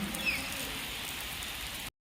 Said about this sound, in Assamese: ইয়াত দেখিবলৈ পাইছে পূৰা বৰষুণ